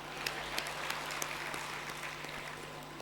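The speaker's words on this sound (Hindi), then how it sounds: "जोरदार तालियां।" Audience at a spiritual discourse applauding steadily for about three seconds, a soft, even wash of clapping with a faint low hum beneath and no voices over it.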